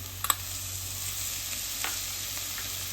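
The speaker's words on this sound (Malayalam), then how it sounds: "സവാള കുറച്ച് വഴറ്റി വന്നിട്ടുണ്ട്. അതിലേക്ക് നമുക്ക് വെളുത്തുള്ളി ഇഞ്ചിയും ഇടാം" Onion, garlic and ginger sauté in a pan for chicken cutlets, a steady close sizzle with a couple of faint scraping stirs near the start and middle, no talk.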